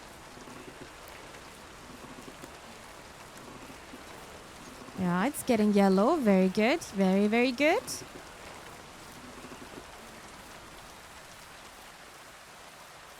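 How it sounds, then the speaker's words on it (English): Constant rain in Kingdom Come: Deliverance II, a soft even hiss of falling drops, with a voice speaking a few short phrases over it in the middle. "As you can hear the rain so much right now."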